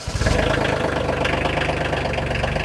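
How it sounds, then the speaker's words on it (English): Several chainsaws, an ECHO, a Husqvarna and a Holzfforma, idle together with a steady, loud, rattling engine drone that carries through the whole moment without any talking. "I'm gonna go ahead and get each saw started and idling"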